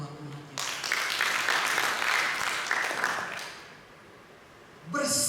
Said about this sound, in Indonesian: Saudara boleh tepuk tangan buat Tuhan kita.